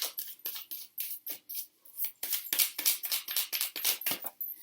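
Cards riffle and flick in rapid crisp bursts, pausing briefly then continuing in quick repeated runs, close up with no talking.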